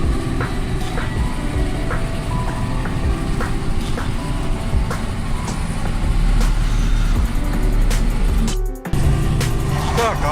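KamAZ trucks and other vehicles rumble along a congested road in Almaty, a steady heavy engine drone and passing traffic heard from inside a truck cab, with a brief dip near the end.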